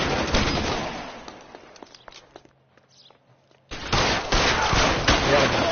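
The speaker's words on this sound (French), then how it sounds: "C'est une mitraillette." Submachine gun fire in the police video game L.A. Noire: dense rattling bursts that fade to sparse scattered shots and a quiet lull, then a sudden loud renewed volley of rapid gunfire.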